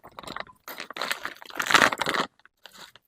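Kerupuk crackers, fried so they puff up, crunched and chewed up close in several loud, crisp bursts with short silent gaps between them.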